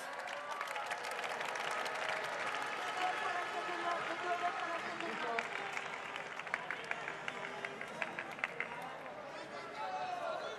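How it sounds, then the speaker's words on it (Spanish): A large crowd at the Spanish national football team's Euro championship celebration in Cibeles claps and cheers continuously in the distance, with a voice talking over the sustained applause. "Fuerte aplauso para el internacional con la selección española y cantante vocacional, Pachi Salinas."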